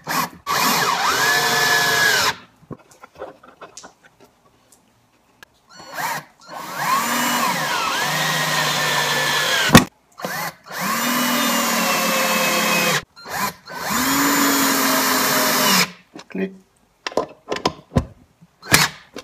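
Power drill boring countersunk holes, in several loud whining bursts of a few seconds each, with pitch rising and falling as the bit bites, separated by short quiet gaps.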